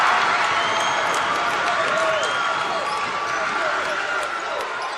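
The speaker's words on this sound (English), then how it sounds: "He's got this crowd going bananas." Loud crowd noise fills a high school basketball game between Bedford and Central, with steady cheering and clapping throughout, sneakers squeaking and a ball bouncing on the court underneath.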